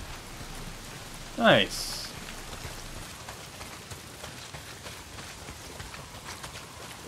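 Heavy rain pours steadily in the open world of the Days Gone video game, a constant broadband hiss throughout, briefly overlaid by a short spoken word and a sharp burst of sound early on.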